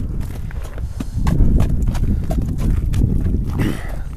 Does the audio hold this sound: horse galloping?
yes